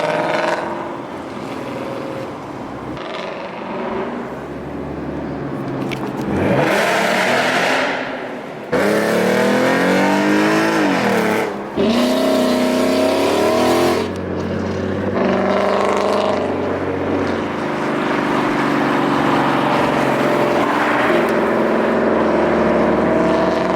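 Cars pull away from a meet with S550 and S197 Mustangs and a Subaru, engines revving hard and roaring past one after another in loud bursts, with a steady engine rumble between passes.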